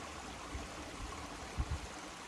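A river flows through a jungle as a steady, broad wash of running water, soft and continuous, with a few low gurgling swells.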